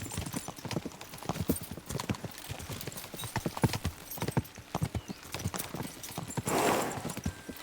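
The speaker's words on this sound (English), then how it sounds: "We should spur the horses on." Horse hooves clip-clop in a fast, steady gallop rhythm in Kingdom Come Deliverance II, loud and close, with a brief rushing swell near the end.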